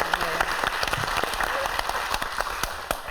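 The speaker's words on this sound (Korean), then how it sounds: "다시 한번 박수드립니다" Studio audience applause on a Korean TV talk show, a steady dense wash of clapping lasting about three seconds at moderate loudness, with a few sharper individual claps standing out.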